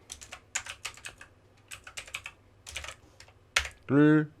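Computer keys are pressed in quick, irregular clusters of crisp clicks while entering a keyboard shortcut, followed by a short burst of voice at the end.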